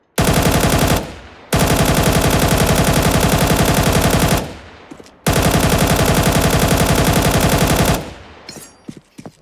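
Galil rifle in Counter-Strike 2 firing in three long, loud full-auto bursts of rapid, evenly spaced shots, with short pauses between them and a few scattered clicks and shots at the end.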